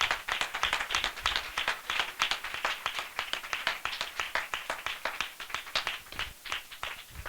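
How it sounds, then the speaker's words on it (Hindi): A church congregation at a spiritual worship assembly claps loudly in welcome. The hand claps are sharp and closely spaced, falling into a fairly regular rhythm that continues steadily for over seven seconds with no talking. "हम जोरदार ताली से उनका स्वागत करें।"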